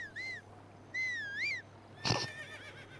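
A horse in the video game Zelda Breath of the Wild lets out two wavering whinnies, followed by a sharp snort or stamp with a fading tail, over quiet game ambience.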